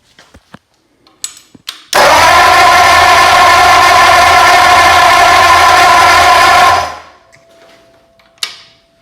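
A vintage engine on a run stand spins over steadily for about five seconds with a loud, continuous mechanical whir, then winds down to silence. A few short clanks come before and after.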